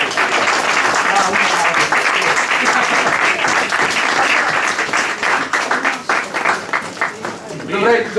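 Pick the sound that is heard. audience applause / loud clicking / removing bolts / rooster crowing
audience applause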